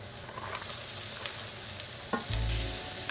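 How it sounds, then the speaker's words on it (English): Carrots and onions frying in oil with scrambled eggs in a pan, a loud, steady sizzle close up, with a few scraping stirs and a low thump toward the end, no voices. "then I'm gonna add my carrots and my onions and cook those for a minute"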